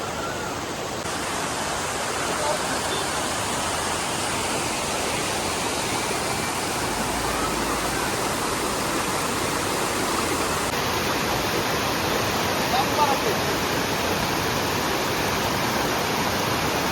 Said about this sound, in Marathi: आम्ही इथं धबधब्यावर